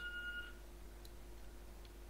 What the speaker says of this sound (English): What's that beeping?